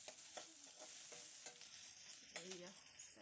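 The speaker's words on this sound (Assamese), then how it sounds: "এয়া আদা নহৰু অকণমান তেলত ৰাখি দিছোঁ মানে ভাজিম" Ginger and garlic fry in a little oil with a steady, close sizzle and crackle, broken by a few soft clinks and stirring scrapes, with no talk.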